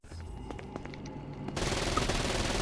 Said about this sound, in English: Pump action shotgun.